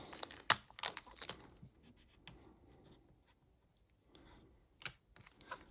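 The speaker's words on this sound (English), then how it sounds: "Let's go ahead and peel it open, shall we? And there's a lot of shrink wrap on this." Plastic shrink wrap being peeled and torn off an Asus GeForce RTX 5080 TUF Gaming OC graphics card box, giving a few sharp crinkling rips near the start and another near the end, with quiet gaps between.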